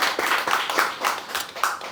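Audience applause welcomes a guest at a commemorative panel discussion in Jeongeup. Steady, close clapping holds at a fairly even level, with individual hand claps rising from the wash of sound throughout.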